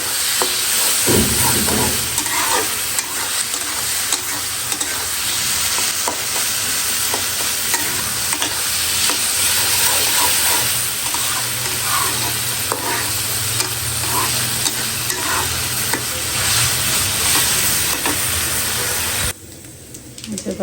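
Dried chillies, garlic and onion fry in hot oil for a tempering, giving a continuous close sizzle with occasional stirring scrapes throughout.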